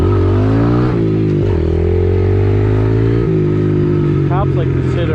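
A Yamaha TTR-110 dirt bike engine revs loud and close in first gear, its pitch rising and dropping in several surges with a steady buzzing drone, while a rider talks over it.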